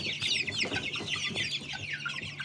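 Month-old Jersey Giant and Leghorn chicks raised at home peep and cheep continuously at close range, with soft clucking under the high chirps.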